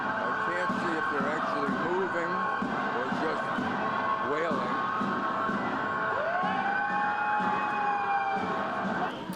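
Police vehicle sirens wailing over a noisy street protest, rising and falling tones riding above a busy crowd din with people talking throughout.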